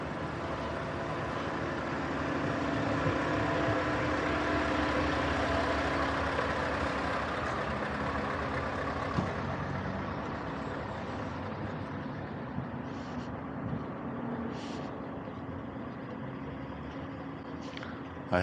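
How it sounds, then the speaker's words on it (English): Heavy trucks, including a very long trailer rig, and stopped traffic idle in a steady low rumble on a Stockholm street at Gullmarsplan, continuous and fairly close, with no talk. "here is this huge truck"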